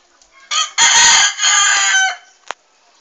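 Chickens and roosters in a newly built cockhouse on a farm, with a rooster giving a loud, close crow in two long bursts followed by a short squawk.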